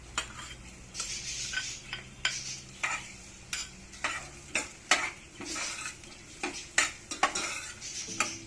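Corn stirred into a pot of sautéed aromatics for corn malunggay soup, a rhythmic series of close scraping, clinking strokes over a low sizzle, with no talking.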